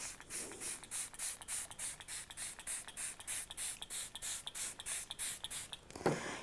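Rapid, regular spritzes of an oxygen facial spray pump soaking a cosmetic napkin, one after another in a steady rhythm, close by, ending with a slightly louder rustle.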